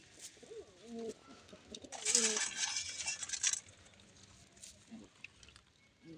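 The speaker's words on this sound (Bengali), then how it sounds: "পায়রা এখন খাচ্ছে" Pigeons at a loft feed on wheat grain and give soft, low, rolling coos close by. A brief burst of rustling and flapping breaks in midway, then scattered coos and small clicks follow in a fairly quiet setting.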